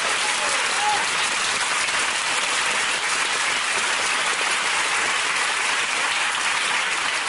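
Studio audience applause greets a guest on a German NDR television talk show, a dense, steady wash of clapping that holds at full strength for the whole stretch.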